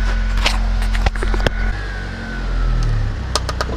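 A car idles and rolls forward over a Vortex StrikeFire II rifle scope on wood, its low engine rumble steady throughout, broken by a couple of sharp cracks and faint clicks.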